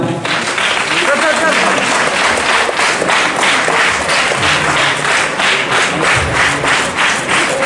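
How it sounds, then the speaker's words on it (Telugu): Sustained clapping from a crowd at a Republic Day event at the Medchal Collector's office, a dense steady wash of applause with a voice carrying over it. "మనమందరం చప్పట్లతో అభినందిద్దాము"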